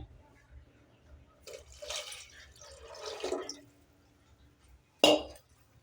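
Water tipped from a drinking glass into a cooking pot for egg biryani gives soft, faint gurgling pours in the middle, ending in one short, sharper splash near the end.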